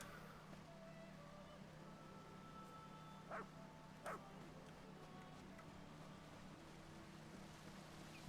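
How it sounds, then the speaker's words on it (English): A dog in the game Elder Scrolls Online, Blackwood, giving two short faint barks over a quiet steady background hum. "Hey, a dog."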